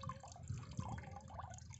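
Water mixed with fertilizer runs from a half-open valve at the bottom of a drum into a field channel in a corn field, a soft, steady trickle and gurgle with faint drips, quiet and close.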